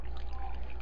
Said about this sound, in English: So, kind of continuing to pour here